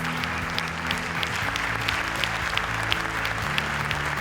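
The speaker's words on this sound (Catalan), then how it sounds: "Un fort aplaudiment especial per a Juan Molés" A hall audience at a sports awards gala in Nules applauds steadily, dense clapping holding at an even level throughout with a low hum or music tone beneath.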